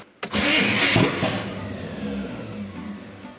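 Chevy 454 V8 in a Squarebody dually truck cranking over, a sudden close starter burst that catches briefly, surges, then settles into rough, uneven turning for a few seconds.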